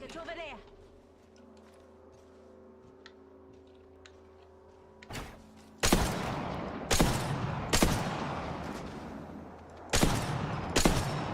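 Video game gunfire: quiet ambient hum, then several loud bursts of rapid shots in clusters, close and sharp.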